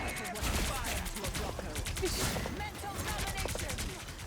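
Rocket's ultimate barrage in a hero shooter, a dense rapid volley of explosive shots and crackling blasts sustained throughout, with game noise layered over it.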